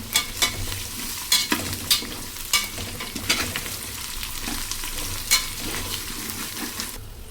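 Potatoes and onions frying in a pan while being stirred, a steady sizzle with repeated scraping strokes of a spoon against the pan at close range, no talking.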